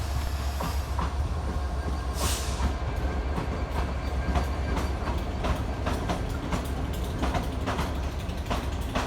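Class 67 locomotives 67015 and 67010 passing through Crewe station, a continuous loud rumble with rhythmic clickety-clack of wheels over rail joints, metallic rattles and squeals, close by and sustained the whole time.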